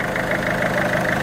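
A diesel engine idling unsteadily and vibrating, a close, continuous loud rumble with a slightly wavering pulse and no voices.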